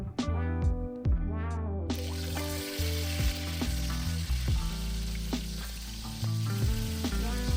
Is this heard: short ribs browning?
yes